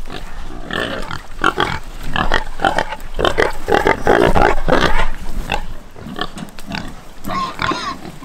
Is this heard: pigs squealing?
yes